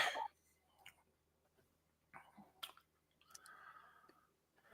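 Someone chews a peppermint candy with soft, wet, squishy mouth sounds. A few faint bursts and clicks come close up in a quiet room.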